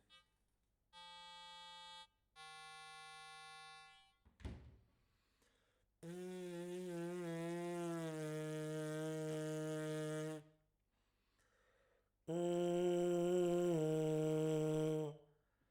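A brass player's free lip buzz, made without a mouthpiece: two short steady buzzes, then a sharp pop, a long sustained buzz that wavers in pitch, and one more held buzz, all faint and close with no talking.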